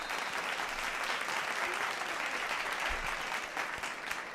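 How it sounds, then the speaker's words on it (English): Steady applause during a livestream of an FC Barcelona versus Olympiakos Champions League football match, a continuous faint wash of clapping from a stadium crowd heard at a distance, with no speech. "Round of applauses for Dro and for Frenkie de Jong."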